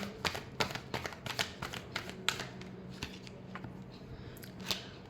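Tarot cards being shuffled in a love reading, a quick run of crisp riffling snaps and taps, close and fairly soft, with no voices over them.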